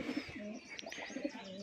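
Rajshahi Giribaz pigeons coo softly in a steady, low murmur, with a few brief chirps over the top; no talk is heard.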